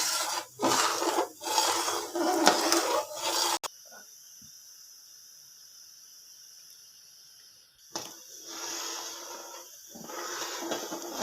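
A spoon stirs sugar syrup (chashni) in a pan for rice ladoos, giving repeated close scraping strokes against the metal. A quiet pause in the middle is followed by the scraping starting again.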